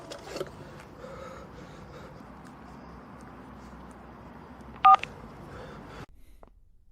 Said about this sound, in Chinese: 打电话。